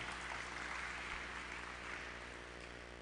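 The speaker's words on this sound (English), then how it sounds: "Give applause to us all." Applause from the audience at an academic competition, a steady, dense wash of clapping that fills the whole stretch at fairly constant loudness without pause.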